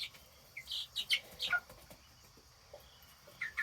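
Homestead chickens cluck and chirp in a scattered series of short, bright calls, close by and fairly quiet, with a brief flutter among them and gaps of near silence between bursts.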